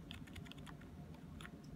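Quick bursts of keystrokes on a DB Power A8 membrane gaming keyboard, close and crisp clacks over a low background hum.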